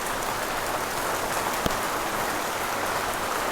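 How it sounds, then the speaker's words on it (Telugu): Heavy rain pours down in a dense, unbroken hiss of drops striking surfaces, steady and loud throughout with no voices. "వాన్ చూడండి ఎలా పడుతుందో"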